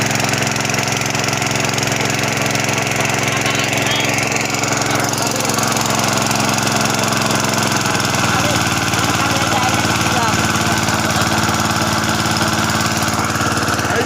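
A NIPPON petrol engine water pump with 3-inch delivery runs loud and close, a continuous buzzing engine drone whose pitch drops partway through as the throttle is eased, with voices faintly under it.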